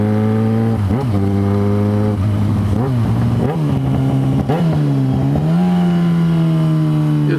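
A Yamaha XJ6 motorcycle engine revs loudly and up close while being ridden. Its pitch climbs and dips through repeated throttle blips and gear changes over a steady, continuous drone, with no talking.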